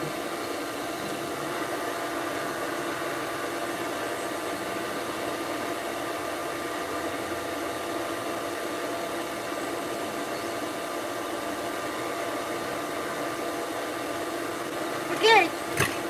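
A pet hair dryer blows steadily during grooming of a Persian cat, a constant close whoosh that runs unbroken throughout, with a couple of faint clicks near the end.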